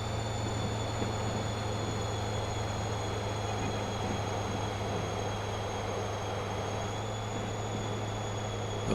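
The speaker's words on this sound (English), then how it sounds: "We can see train number 1 on its way down." A train in Transport Fever 2 rumbles steadily along an alpine line, a continuous low mechanical drone with faint high tonal whines, evenly loud throughout with no talking.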